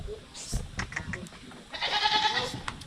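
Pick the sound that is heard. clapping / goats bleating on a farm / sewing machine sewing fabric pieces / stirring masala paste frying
goats bleating on a farm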